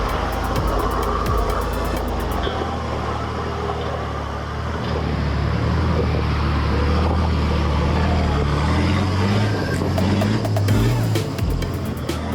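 A Nissan Patrol 4x4 on 37-inch tyres climbs rock steps in second gear, its engine droning steadily with a rising, straining note under a constant wash of ambient noise.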